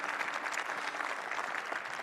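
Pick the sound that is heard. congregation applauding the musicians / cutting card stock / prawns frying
congregation applauding the musicians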